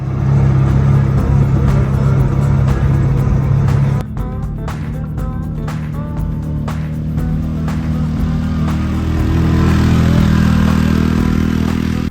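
A 2023 Kawasaki Mule Pro-MX SE side-by-side drives on a test run, its engine a loud, steady close drone that drops in pitch and then builds again, with rattles and clatter over the running engine.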